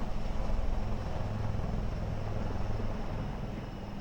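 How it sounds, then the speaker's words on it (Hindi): A loud, steady rotor drone of three Indian Army Dhruv light helicopters flying overhead at the Republic Day Parade, with a constant low hum that holds without fading. "आर्मी एविएशन के 3 उन्नत हल्के हेलीकॉप्टर ध्रुव"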